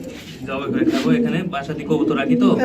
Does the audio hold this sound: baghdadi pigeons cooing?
yes